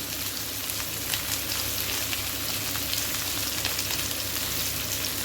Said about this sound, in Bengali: এখন একটু ভেজে দিই ভালো করে,